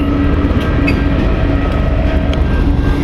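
A train pulled by two engines rumbles past a station platform in a steady, loud, continuous roar with faint wheel clatter, heard close and without talking.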